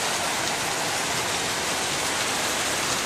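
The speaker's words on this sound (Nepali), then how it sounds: "बाहिर चाहिँ धमाधम पानी पर्दैछ" Heavy rain pours steadily outside during a storm under a dark sky, a dense, continuous hiss of downpour that stays loud and even throughout with no talk.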